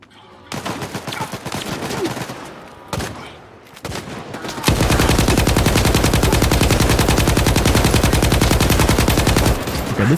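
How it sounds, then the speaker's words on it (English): Sustained automatic bursts from a light machine gun in the shooter Stalker 2, loud and close: a short volley, a pause, another burst, then several seconds of unbroken rapid fire. "this gun is remarkably accurate for being like a light machine gun."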